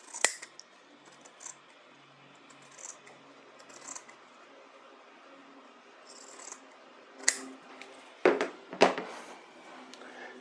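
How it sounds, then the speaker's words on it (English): Scissors trim excess dress lining fabric down while finishing a bodice, close-up: a series of sharp, crisp snips at irregular intervals with quiet handling noise between cuts, the last few cuts louder and more forceful. "I'm going to trim that down to 1 inch now"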